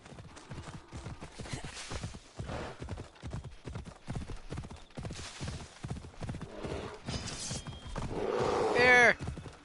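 A horse's hooves clip-clop in Assassin's Creed Odyssey, a rapid rhythmic gait growing nearer under someone talking, with a whinny near the end.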